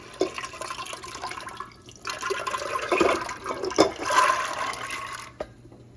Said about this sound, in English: take the soaked chickpeas with the water that they're in, and you're just going to dump this into your